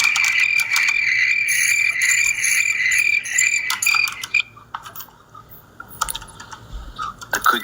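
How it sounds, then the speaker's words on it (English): Crickets chirp at night in a dense, steady high trill that thins out midway into scattered clicks and softer chirps. "The crickets is crazy."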